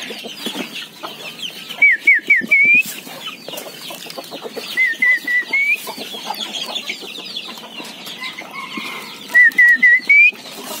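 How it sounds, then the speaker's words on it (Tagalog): Several chickens cluck and chatter nearby in short, repeated bursts during feeding, with a few higher whistling calls over a busy rural farmyard background. "Papatuka naman tayo ng ating mga alagang manok."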